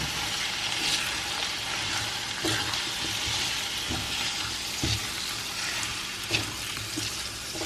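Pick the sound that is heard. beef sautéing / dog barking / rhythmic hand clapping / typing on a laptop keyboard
beef sautéing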